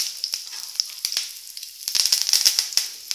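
Curry leaves drop into hot oil where cashew nuts are already frying, producing a close, bright crackling sizzle with rapid pops that swell briefly as they hit.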